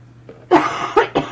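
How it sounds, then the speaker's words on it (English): Three harsh coughs come in close succession, loud and near, with short gaps between them. "I'm so sorry about the coughing"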